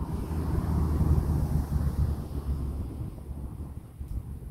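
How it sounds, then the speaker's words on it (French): Northeast wind blowing outdoors on a freezing day in mushroom-hunting country, a steady low rumble buffeting the microphone throughout, fairly loud and continuous with slight swells, no talk. "Je peux vous dire que c'est un vent de nord-est, le pire qui existe."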